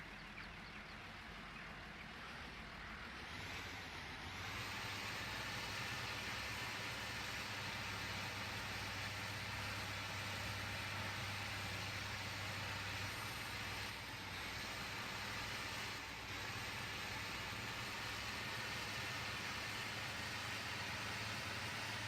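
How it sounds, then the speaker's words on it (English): A Ford 6640 tractor engine in Farming Simulator 2015 drones loudly and continuously as it drives, revving up early and then holding a harsh, screechy, high-pitched whine throughout. "One thing I will say about this engine noise is it gets like really screechy at this point."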